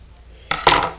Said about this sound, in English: just cut a straight line with your X-Acto knife